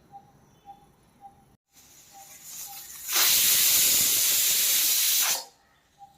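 A pressure cooker cooking stuffed brinjal on a low flame lets out a loud, steady hiss of escaping steam for about two seconds, after faint ticking sounds, then cuts off abruptly.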